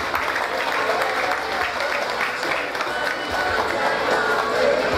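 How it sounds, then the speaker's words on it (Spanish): Applause from a crowd at a town patron-saint festival, a dense, steady clapping wash with some cheering and background voices throughout. "Recibamos con un fuerte aplauso"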